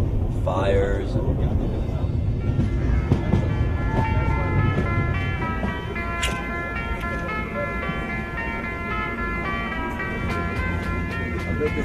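Inside a moving passenger train in India, a steady low rumble of the carriage with faint rattles and tonal squeals of the wheels, fairly quiet, with no voices.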